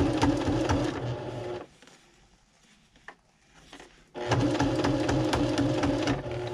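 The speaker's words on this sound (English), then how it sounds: "And we got to sew all the way around." A sewing machine runs steadily, stitching heavy fabric with all-purpose thread around a double gun case, stopping for a couple of seconds in the middle and then starting up again at the same loud, even pace.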